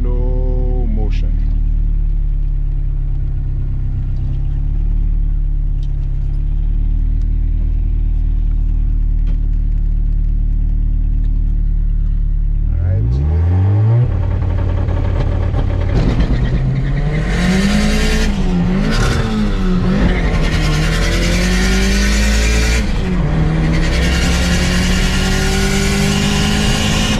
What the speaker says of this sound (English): Couple vehicles coming across the track in slow motion.